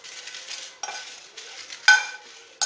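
Chicken masala spices being dry-roasted in a pan: brief bursts of dry rustling and scraping as they are tossed, with short pauses between and a sharper clink of metal near the end, close up and without voices.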